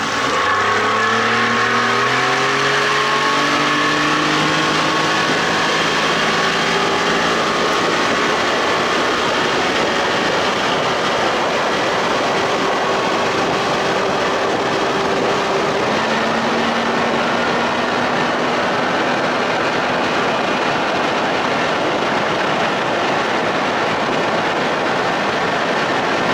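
A 60 hp Johnson outboard motor runs hard at high RPM, about 5,200, with a loud, sustained engine roar. Its pitch climbs early on and then holds at a steady, buzzing drone, with wind and water noise mixed in.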